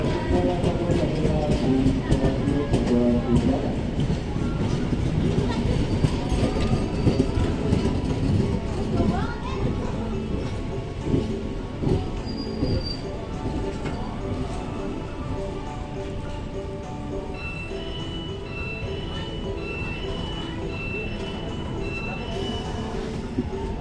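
A passenger train of 16 carriages rumbles steadily along the rails with rhythmic clatter of wheels and carriages, loud and continuous, with faint voices mixed into the noise.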